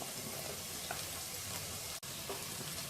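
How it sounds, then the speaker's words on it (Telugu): Beans and spring onion whites stir-frying for Chinese-style egg fried rice, a dense close sizzle with stirring scrapes and one brief cut in the sound partway through. "బీన్స్ కొంచెం ఫ్రై అయిన తర్వాత స్ప్రింగ్ ఆనియన్స్లోని వైట్ పార్ట్ వేసుకోవాలి."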